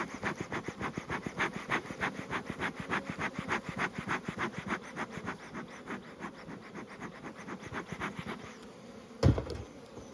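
Honeybees drone in a steady, close buzz at an open hive box, with a throbbing pulse running through it and a brief thump near the end.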